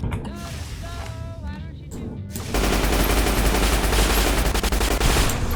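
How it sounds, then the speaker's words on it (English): Rapid automatic gunfire from a powerful weapon in Fallout: New Vegas bursts in loud and sustained after quieter game sounds and brief talk, then continues as a dense rattling stream. "Man, that's a powerful gun."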